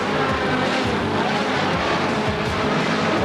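Off-road race trucks, including a Toyota, roar around a stadium dirt track at a heat race finish, a loud continuous engine drone blended with crowd noise, steady and dense throughout.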